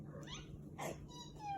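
A cat gives a short, close meow, with a quiet rustle and room hum around it.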